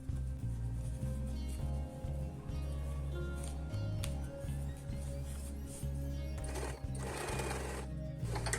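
A sewing machine runs steadily, stitching a car headrest pillow close to the zipper, its rapid mechanical needle rhythm continuous with brief pauses and small clicks.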